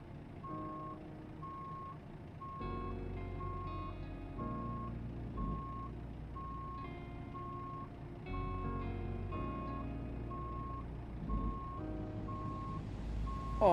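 A truck's reversing alarm beeps in American Truck Simulator, an evenly spaced series of sharp electronic tones over the low idle of the engine, repeating steadily about a dozen times with no talk.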